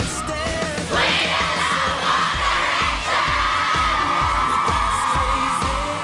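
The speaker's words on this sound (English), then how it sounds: "The girls have been screaming and falling" A large crowd of girls screams and yells continuously around a boy band, a loud dense roar with rhythmic music thumping underneath.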